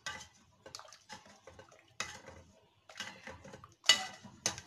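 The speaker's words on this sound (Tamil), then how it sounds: "இப்போ நான் ஒரு மேஷரில் இந்த தக்காளியை நல்லா மேஷ் பண்ணி விட்டுறேன்" Cooked tomato and green chilli are mashed with a masher in a pot, producing repeated soft squelching presses and knocks of the utensil against the pan, in an irregular rhythm at close range and low volume.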